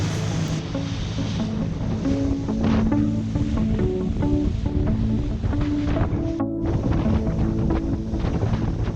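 Coastal sea water churning and forming whirlpools, a continuous loud rushing roar of turbulent water with wind buffeting the microphone throughout.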